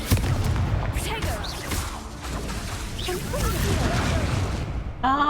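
Spell explosions from Confringo going off in Hogwarts Legacy combat, dense booming blasts and crackling bursts layered over busy game action, with a voice speaking partway through.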